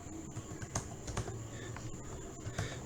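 Keys clatter on a computer keyboard while entering values in Matlab, a close run of uneven taps and clicks with no talking.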